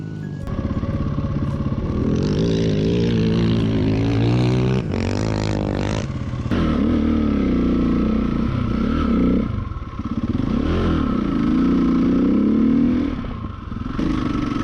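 Rally enduro motorcycles pass on a desert special stage, engines droning and revving loudly as they go by one after another, with rising and falling pitch.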